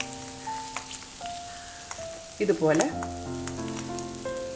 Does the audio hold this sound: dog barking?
no